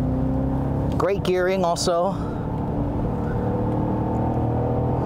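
A 2022 Cadillac CT5-V Blackwing V8 sedan with a manual transmission runs with a steady engine drone throughout, while someone speaks briefly over it near the start.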